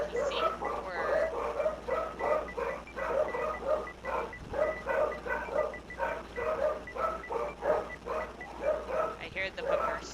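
Dogs bark repeatedly in a steady series of sharp yaps, with people talking over them throughout.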